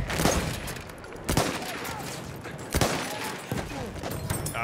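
Battlefield 1 mortar fire: three or four sharp, heavy blasts land at intervals of about a second and a half, mid-distance and loud over a constant battlefield rumble.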